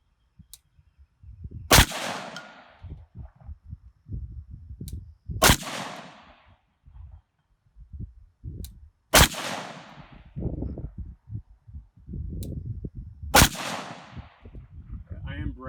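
Four loud, sharp gunshots from a weapon fired on a shooting range, spaced roughly every four seconds, each with a short decaying tail, over low rustling and handling noise between shots.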